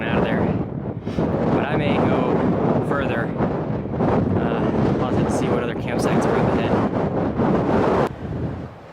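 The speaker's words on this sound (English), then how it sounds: "Still a little windy." Heavy wind on a mountain trail buffets the microphone in loud, roaring gusts throughout, with brief snatches of a voice half-buried under the rumble.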